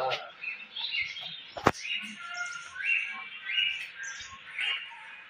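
Parrots at Sakkarbaug zoo in Junagadh give repeated shrill chirps and squawks at a moderate distance, with one sharp loud knock partway through and faint background talk underneath.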